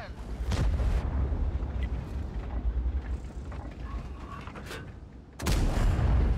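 Artillery fire in the World of Tanks video game: two loud, booming blasts, one near the start and one near the end, with a long rumbling mechanical din of tank battle between them.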